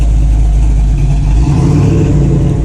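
A cammed truck engine revs at a cruise-in car show, a loud, close, lumpy exhaust rumble that swells briefly and then settles.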